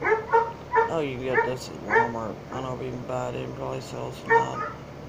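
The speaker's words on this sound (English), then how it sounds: "Sorry about that dog." A dog outside barks and whines in short bursts while someone talks close by over it, the yips breaking through between his sentences.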